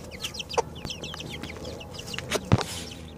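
Several roosters cluck and chatter nearby in quick, overlapping bursts, with a few sharper squawks and a thump.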